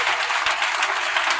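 A church congregation applauds God with dense, even clapping that fills the hall for a moment, and there is no clear cheering.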